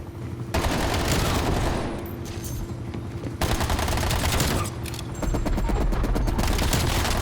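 AMP63 pistols fired akimbo in Call of Duty: Black Ops Cold War, loud rapid bursts of gunfire in quick succession, with a brief pause between strings of shots.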